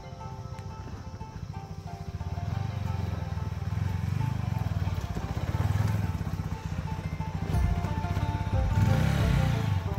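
Motorcycle ridden along a rough off-road village path toward a hilltop view tower, its engine a steady, close rumble that swells slightly throughout, with no voices.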